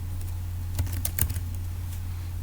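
Keys clack on a computer keyboard while a command is typed at a Windows prompt, a short burst of quick, close taps over a low steady hum.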